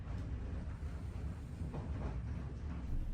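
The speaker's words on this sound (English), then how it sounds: "allow you to see the train up close as it cruises by" The Byron Bay solar train cruises along the track close by, a low, steady rail rumble with faint rolling clatter and some wind noise.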